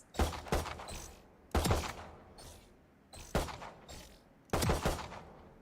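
Gunfire during target shooting practice in the video game Valorant, four distinct bursts of a few rapid shots each, spaced about a second and a half apart, fairly close and crisp.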